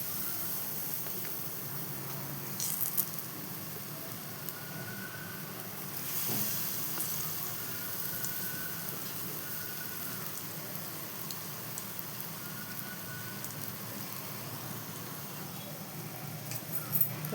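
Pazham pathiri batter spooned into medium-hot oil, giving a steady, soft crackling sizzle like light rain that runs evenly throughout with no voices.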